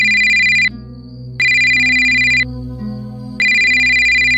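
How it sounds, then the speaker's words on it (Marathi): A phone ringtone sounds loud and close in a TV drama scene, repeating electronic rings in three bursts separated by short gaps, with a low music bed underneath and no talking. "मला फोन येतो यांचा, मला हा फोन उचलायला हवा"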